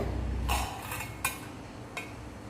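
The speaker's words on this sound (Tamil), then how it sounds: "மேலே உள்ள பிளேட் எடுத்துருங்க." A plate used as a lid is lifted off a pan of kunafa cooking on low heat on a stovetop, giving a short ceramic scrape and clink followed by two light knocks, close and fairly quiet over a steady low hum.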